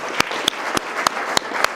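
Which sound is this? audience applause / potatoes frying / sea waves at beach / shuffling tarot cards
audience applause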